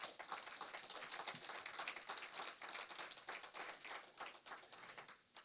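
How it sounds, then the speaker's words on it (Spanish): A church congregation claps steadily in rhythm throughout a Saturday worship service. The claps are quick and even, and the sound is fairly distant and faint. "Dale palmas al Señor"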